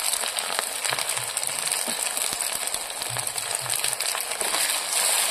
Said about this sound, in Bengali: মশলাগুলো আবার একটু কষিয়ে নেব।